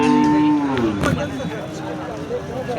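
Cows at the Sangola cattle market give a long, loud moo that slides downward, followed by market chatter and people talking nearby.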